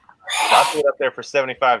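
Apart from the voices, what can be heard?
woman sneezing from allergies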